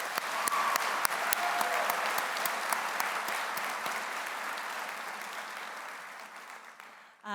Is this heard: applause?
yes